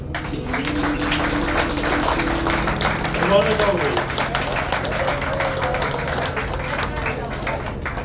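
Audience applause for an anniversary performance by a choir, sustained crowd clapping with voices talking over it throughout.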